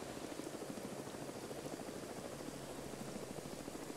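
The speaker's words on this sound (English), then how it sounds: "here comes our chopper" Helicopter arriving in the military video game Arma: a faint, steady rotor rumble with a soft rhythmic flutter that holds at an even level throughout, with no voices.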